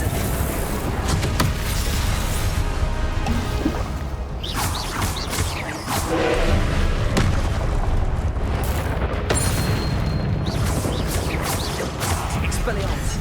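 Repeated booming spell blasts from Confringo and Incendio casting in the Hogwarts Legacy video game, dense loud bursts and crashes throughout, with shouted voices over the din.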